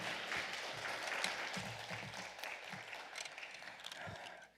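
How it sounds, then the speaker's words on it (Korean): A church congregation at a Korean fasting prayer house gives sustained applause, a dense wash of clapping that is moderately quiet and holds steady before slowly tapering off. "하나님께 감사와 영광의 박수 올리시기 바랍니다"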